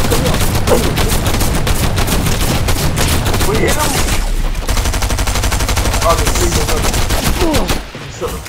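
Light machine gun fire in a Fortnite or Warzone match, long loud sustained bursts of rapid automatic shots running almost the whole time, with a short break near the end and speech faintly mixed in.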